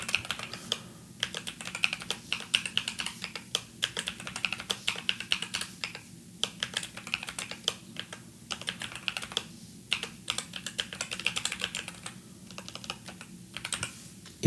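Rapid, uneven keystrokes on a computer keyboard while a username is entered, close and fairly quiet, continuing in short bursts with brief pauses and no voices.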